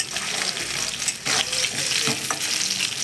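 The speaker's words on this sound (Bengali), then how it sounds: "তেলের মধ্যে আমি এই যে আলুগুলো ভেজে নিচ্ছি।" Potatoes fry in hot oil with a continuous close sizzle and crackle, punctuated by a few stirring scrapes, no talking.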